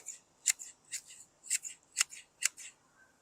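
ARS KR-1000 two-handed pruning shears snip repeatedly at close range, about seven crisp, bright cuts in an even rhythm with quiet gaps between, no talking.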